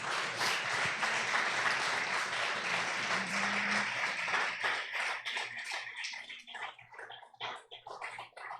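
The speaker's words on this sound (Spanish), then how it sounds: "Aplauda, hermano, si quiere aplaudir." Clapping from a church congregation during a Christmas sermon, a dense burst of applause that thins out and scatters toward the end.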